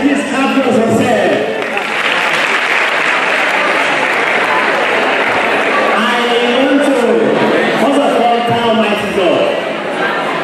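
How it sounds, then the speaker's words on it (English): Sustained applause from a large audience at a university ceremony, loud and dense throughout with crowd murmur and some speech mixed in. "please clap for yourself"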